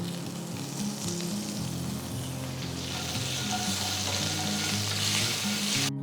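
Curry leaves and asafoetida hitting hot oil with peanuts and lentils for raw mango rice, producing a continuous close sizzle and crackle with stirring, steady throughout with no talk.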